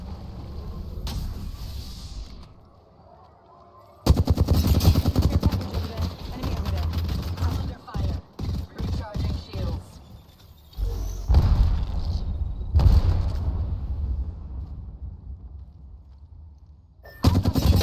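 Gunfire and explosions from the battle royale video game Apex Legends, dense bursts of rapid shots and booms that cut in and out in loud stretches, with a voice speaking over parts of the action.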